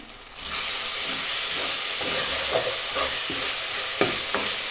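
A tomato bath tempering fries in a pan while being stirred, producing a loud, even, hissing sizzle broken by a few scraping taps of the spoon against the pan.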